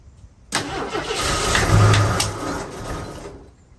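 An AMC Concord engine, parked for 26 years, cranks and catches with a rough, strained roar that swells and then fades out, loud and close.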